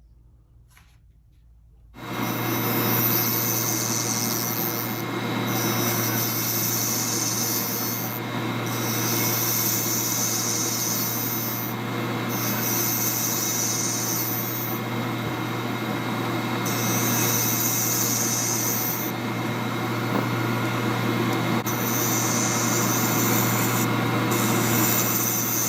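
Bocote wood for a fountain pen body turns on a lathe while a tool tapers it, a steady, close rushing scrape that starts after a short quiet moment and runs on without a break.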